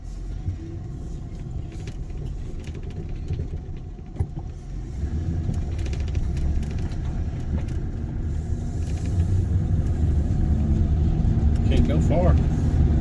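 A vehicle engine runs while driving down a road in the Cherokee National Forest, a low steady rumble that slowly grows louder, with a person talking over it.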